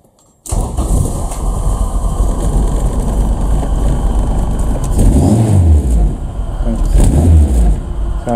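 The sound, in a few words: Honda Civic EF engine starting and revving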